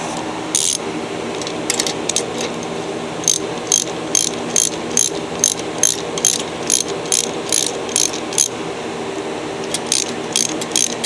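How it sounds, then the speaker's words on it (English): A hand ratchet loosens the 3/8 carburetor bolts on a poorly running Yardman mower, giving rapid bursts of metallic clicking in short repeated strokes, close and loud, with no talking. "Well, let's get that carburetor off."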